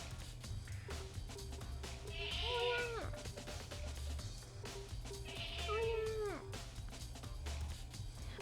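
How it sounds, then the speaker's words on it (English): A pet cat meows twice, a few seconds apart, each a drawn-out, falling call heard fairly close over a steady background hum. "My cat's so cute."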